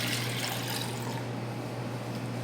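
Water is poured from an American-style glass into a pan to make a simple sugar syrup, producing a steady, continuous splashing pour close to the microphone with no talking.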